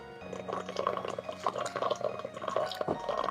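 Wine pours from a bottle into a glass, a steady close gurgling and splashing of liquid throughout, with faint voices in the background.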